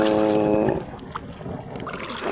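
A fishing boat's engine runs close by during a nearshore fishing trip, a steady droning hum at first that gives way to broadband wind and water noise, with no talk.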